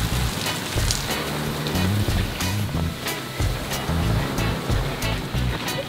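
Waves rolling onto a beach, a loud, continuous wash of surf with rhythmic surges and crackling spray, close and without speech.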